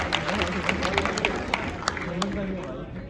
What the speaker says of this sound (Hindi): एक बार आप उसके लिए जोरदार तालियां बजाएं